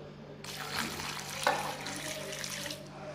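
Water poured from a container during cooking at a home in St Elizabeth, a steady close splashing stream lasting a couple of seconds over a low background hum.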